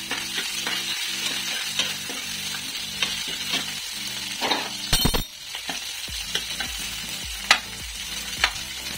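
Green chillies, chopped capsicum and cumin fry in a pan over low heat, giving a steady sizzle broken by scraping stirs and occasional clinks of a utensil against the pan.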